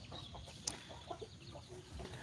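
Chickens cluck in short, scattered calls over a steady low background hum, with one sharper squawk standing out and a few softer clucks following.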